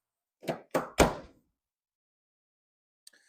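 A Mercedes W210 car door is shut three times in quick succession, each a close, loud thunk, followed after a pause by a faint light click.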